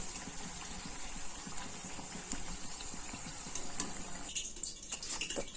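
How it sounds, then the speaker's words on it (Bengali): Brinjal fritters (beguni) fry in hot oil until red and crisp, a steady dense bubbling hiss with faint rhythmic ticking, close and continuous, no talking. "এরকমভাবে সেমভাবে বেগুনিগুলোকে ভেজে নিতে হবে"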